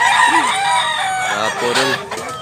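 Chickens and roosters at a poultry market in Mantalungon, Cebu, a close, loud overlapping burst of crowing and clucking from several birds.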